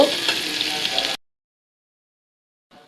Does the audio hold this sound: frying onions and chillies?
yes